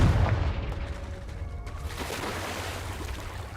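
A Confringo fire spell blast in Hogwarts Legacy, giving a booming low burst at the start that decays into a rumbling, crackling tail, moderately loud, with no talking.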